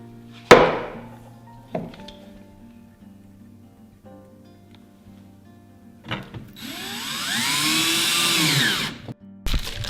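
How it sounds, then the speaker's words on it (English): A power drill drives screws into drawer glides while a sewing station is being built: sharp knocks and clicks first, then a close, loud whirring burst of drilling that rises and falls for a few seconds before stopping. "And then go ahead and screw these in with a drill."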